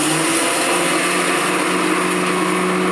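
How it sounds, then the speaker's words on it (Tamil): A mixer grinder grinding roasted gram and flattened rice whirs loudly and steadily at high speed, a continuous motor whine with no talking. "பொரியலை அப்படியே இந்த மிக்ஸி சாரில் போட்டு அரைக்க போகிறோம்"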